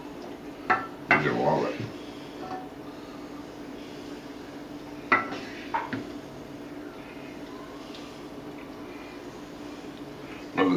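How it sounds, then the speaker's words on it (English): Bean hash is scooped from a pot into a bowl, producing a few soft scraping and clinking utensil sounds with quiet gaps between them, close, and someone speaks briefly. "let me scoop some in this bowl here"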